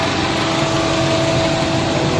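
A 2013 Chevy Cruze with a 2.4 engine runs with its cooling fans roaring at very high speed, a steady loud whir with a constant tonal hum over the engine, with no voices.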